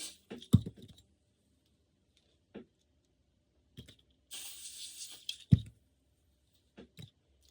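Hair product hisses briefly from a spray can onto the roots, one sustained burst of about a second amid scattered soft clicks and handling taps in an otherwise quiet room.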